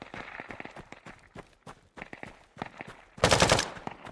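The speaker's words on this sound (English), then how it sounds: "There's a lot of shooting down there." Gunfire in the video game Deadside, with repeated bursts of shots crackling in the distance and then a louder rapid volley close by near the end.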